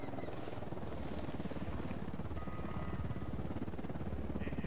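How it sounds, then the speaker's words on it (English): Helicopter in the Tom Clancy's Ghost Recon video game, a steady rotor drone that stays loud and constant throughout without a break, over which no voices are heard. "Hit the dirt. Helicopter."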